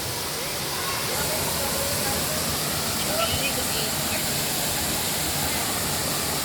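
Steady broadband rush of falling water at Balagbag Falls fills the scene, constant and fairly close, with faint voices now and then beneath it.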